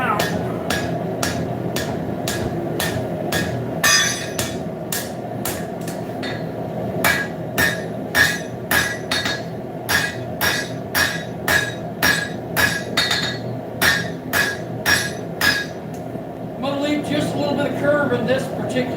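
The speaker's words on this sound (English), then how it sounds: "I'm going to start forging that out." A hammer forging a horseshoe into a letter opener, sharp metallic strikes ringing on the anvil in uneven bursts of quick blows with brief pauses, close and clear, with someone talking at times.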